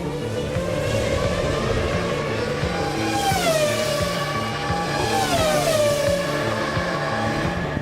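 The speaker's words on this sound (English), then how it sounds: "Every car was a target for the remorseless Hakkinen." Formula 1 cars racing at the 1999 Austrian Grand Prix, a loud, continuous high-pitched engine scream with two rising and falling passes as cars sweep by, no voices over it.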